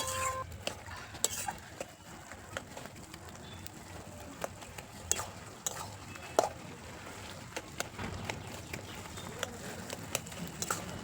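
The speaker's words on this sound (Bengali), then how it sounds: "এখন আমি খুন্তি দিয়ে আলুগুলোকে একটু ভেঙে দিচ্ছি" Spatula scraping and knocking in a pan as potatoes are broken up in a cabbage and prawn curry (bandhakopi chingri ghonto), with irregular close clicks and taps over a steady low background hum.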